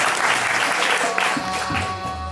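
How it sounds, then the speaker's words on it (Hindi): Audience at a Giriraj Satsang cancer awareness event applauding a doctor's arrival, a loud burst of many hands clapping together that thins out toward the end. "इनके लिए एक बार जोरदार ताली बजा दें।"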